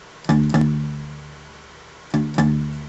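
Palm-muted guitar chugs in close pairs: two quick damped strums, a pause, then two more, played close and clear.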